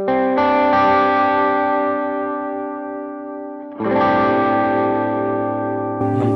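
Electric guitar run through a Helix Litigator amp model with reduced headroom, ringing sustained chords with slight distortion and effects, struck twice and left to decay, loud and alone.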